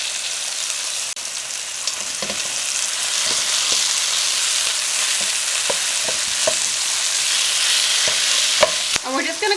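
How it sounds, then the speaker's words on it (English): A pound of ground turkey cooks in a skillet with olive oil and a tablespoon of minced garlic, giving a loud, steady sizzle broken by occasional scrapes and clicks from stirring, with no talking. "we're just going to go ahead and cook our ground turkey through"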